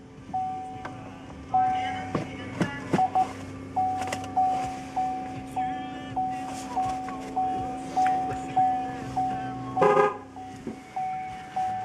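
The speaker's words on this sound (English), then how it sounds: "You've got a pedestrian warning button that'll warn if you've got somebody in front." A Chevy Volt's pedestrian warning sounds repeatedly, a series of evenly spaced chirping tones roughly once per second against a low steady hum, with a louder burst near the end.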